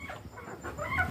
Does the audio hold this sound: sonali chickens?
yes